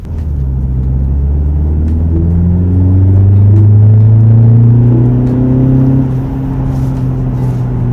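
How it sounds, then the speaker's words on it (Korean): A new Mini Cooper engine revs up from about 30 km/h in go-kart mode under a deep, booming exhaust, pitch climbing steadily and then settling, loud and close throughout. "일단은 배기 소리가 더 웅장하게 들리고 있거든요."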